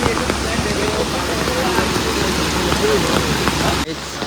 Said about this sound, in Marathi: आणि पावसाला पण आजच पडावा होता